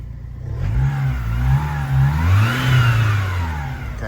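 A Vauxhall Astra engine runs and revs in steady rising and falling surges, loud and close, with a lazy rough character and no voices.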